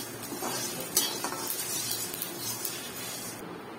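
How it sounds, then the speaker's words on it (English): Rasam powder spices dry-roasting with a drop of oil in a pan, stirred continuously, giving a soft steady sizzle with light scraping and clinks of the spoon, close and without talk. "Stir it, keep stirring."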